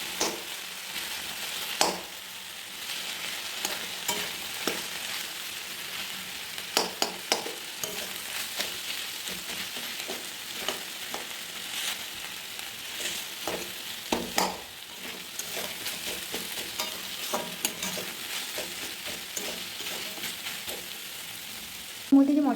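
A hilsa fish head is stirred and broken up in hot oil in a frying pan, with a steady sizzle broken by repeated scraping and clattering knocks of the spatula against the pan.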